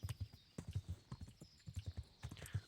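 A horse's hooves clip-clop in a steady trotting rhythm while ridden in the medieval game Kingdom Come: Deliverance, close and clear with no talking.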